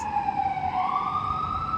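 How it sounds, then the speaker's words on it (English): An emergency vehicle siren wails on a New York City street, a steady rising tone at moderate distance over low traffic rumble. "Sirens."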